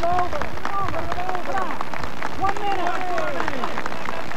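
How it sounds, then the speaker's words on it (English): A crowd in Minnesota in June 1990 applauds Soviet president Gorbachev with scattered, busy clapping, while a voice talks prominently over it throughout. "Listen as they applaud the Soviet president."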